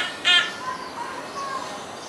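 A hornbill in a bird park cage gives one short, fairly loud call near the start, then only soft background ambience remains.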